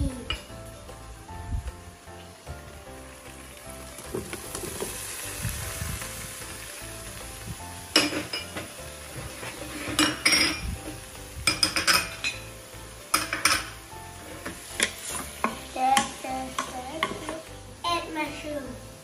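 Carrot and broccoli stir-frying in a pan for a broccoli and mushroom dish in oyster sauce, a soft sizzle broken by frequent clattering scrapes of a utensil against the pan, with faint voices in the background.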